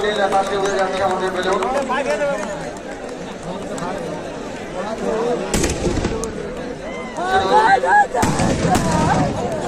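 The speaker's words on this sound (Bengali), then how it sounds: "দেখো আতশবাজি শুরু হয়ে গেছে" Sharp bursts of fireworks bang and crackle a few times amid a noisy crowd of chattering voices and a nearby speaker, at an India vs Bangladesh football match in Domkal, Murshidabad.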